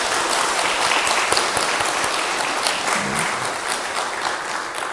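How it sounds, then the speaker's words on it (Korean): An audience of hospital staff at a Korean medical center retreat service applauds the pastor after his sermon, a steady wash of many hands clapping at even volume throughout. "목사님 오늘 설교하시는데 감사의 마음으로 박수를 한 번 더 보내드리겠습니다."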